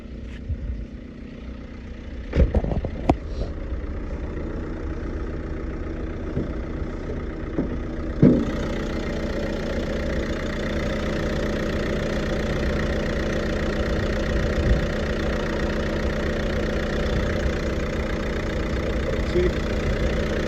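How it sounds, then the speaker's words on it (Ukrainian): A 2015 Renault Scenic 3 1.5 dCi diesel engine in excellent condition idles steadily with a low, even rumble, broken early on by a few sharp knocks and clicks. "Мотор в відмінному стані працює тихенько."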